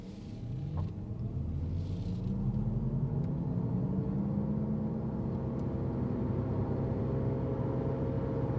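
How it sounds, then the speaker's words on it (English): A Mazda MX-30 R-EV's rotary engine accelerates from a standstill as a steady low drone whose pitch climbs smoothly, heard from inside the cabin with no talking. "did you hear the rotary engine going on?"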